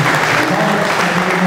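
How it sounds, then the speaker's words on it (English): A crowd at a youth cultural evening claps loudly in a short, dense burst of applause while a voice speaks faintly underneath. "applause."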